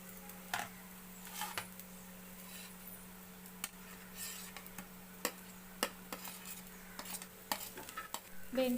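Okra stir-fried with onions, turmeric and kokum in a pan crackles quietly in the background while frequent spatula scrapes and taps come through sharply.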